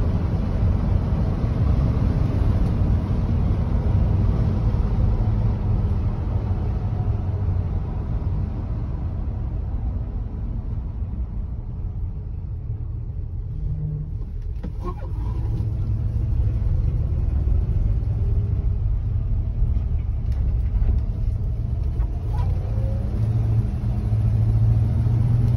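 Steady low engine rumble and road noise from inside the cab of a 1973 Chevy C20 truck with the window rolled up, continuous and fairly loud throughout with no talking.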